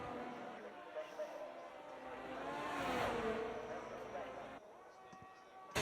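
A Formula 1 race car laps the Hungarian Grand Prix circuit in the F1 23 video game, its high-pitched engine whining and rising in pitch through gear changes, with commentary spoken over it.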